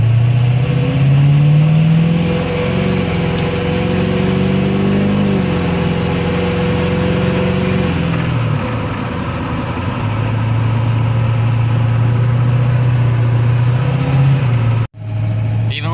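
Duramax diesel pickup truck without a tuner, its engine loud and close, rumbling steadily with revs rising and falling as it pulls away from a light through first and second gear, ending in a brief cutout.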